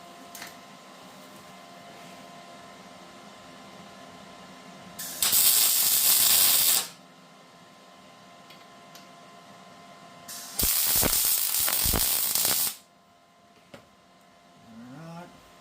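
A wrench works a nut off a vehicle wishbone, giving two loud, dense bursts of rapid ratcheting, each lasting about two seconds, separated by quieter shop background with no voices.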